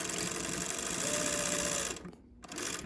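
A sewing machine stitches a fabric mask in a fast, even mechanical chatter, close up. It stops briefly near the end, then starts again.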